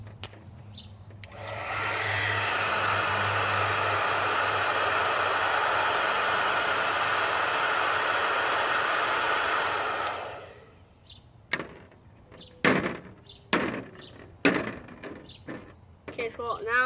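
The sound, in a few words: blow dryer blowing on a fidget spinner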